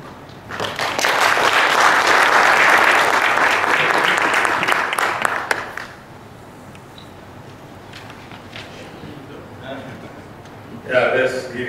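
Audience applause fills a mining summit hall after a presentation on risk management, loud and steady for about five seconds before fading into quieter room noise, with a voice speaking near the end.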